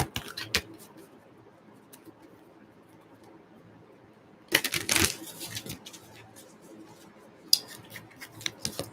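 Tarot cards are handled and drawn, with soft papery shuffles and slides, a few sharp riffle bursts midway and near the end, close and fairly quiet under a faint room background.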